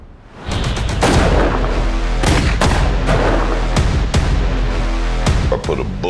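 Loud gunshots ring out in a western action trailer, a burst of rapid shots followed by several sharp single blasts spaced about a second apart, heavy and booming under a dense music and effects bed.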